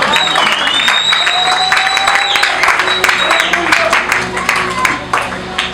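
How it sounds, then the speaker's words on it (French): A church congregation applauds after a Bible reading at a Sunday service, a dense, sustained burst of clapping with scattered cheers close by, fading slightly toward the end. "Est-ce qu'on peut acclamer pour la parole de Dieu?"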